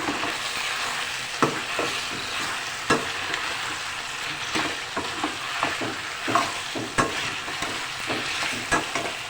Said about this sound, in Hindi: प्याज डाल के फ्राई किया। इसके बाद मैं इसमें थोड़ी सी पिसी लाल मिर्च डाल दूँगी।